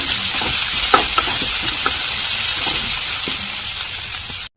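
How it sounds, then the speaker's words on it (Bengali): Chopped onion frying with garlic in a pan for a kochur loti curry, a steady loud sizzle throughout with a few soft stirring clicks, ending abruptly. "পেঁয়াজটা দিয়ে আর একটু ভেজে নেব"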